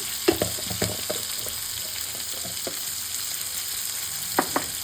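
Green chilies and onion frying in a pan for a broccoli curry, a steady close sizzle with a few sharp clinks and stirring taps scattered through, no talking.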